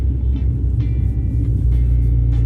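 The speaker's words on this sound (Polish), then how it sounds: "chcemy czasem sobie dodać gazu i posłuchać tego, jak auto brzmi" Volkswagen Passat B5 running on LPG, a loud low engine and exhaust rumble that holds steady and thickens slightly as it accelerates, close and continuous with no voices.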